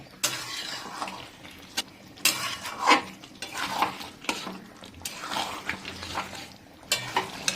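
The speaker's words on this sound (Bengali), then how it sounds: "আর এই সময় বন্ধুরা আমরা গ্যাসের ফ্লেমটাকে একটু হাই করছি, আর হাই করে দিয়ে একটুখানি কষে নেব 2 মিনিটের জন্য।" Chicken kasa is stir-fried in a pan over a high gas flame, with repeated bursts of a spatula scraping and stirring over a continuous sizzle. The sound is close and comes in uneven strokes.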